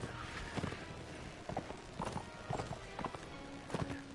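Cavalry horses in the Mount & Blade Warband video game, a steady clip-clop of hooves on the battlefield repeating at a trotting rhythm over a low ambient battle background, fairly faint.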